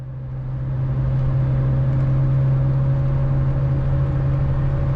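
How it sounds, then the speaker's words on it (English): A Fiat 850 Special classic car accelerating from standstill to 100 km/h, its small engine droning steadily and loudly from inside the cabin with a strong low hum and a gradual rise, no voices. "With driver and cameraman, the Fiat needs about 18 seconds from 0 to 100 km per hour."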